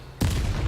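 Confringo blast spell detonating in Hogwarts Legacy: a sudden loud explosive burst hits partway through, after a quiet lead-in, then rumbles and crackles on at full strength until the end.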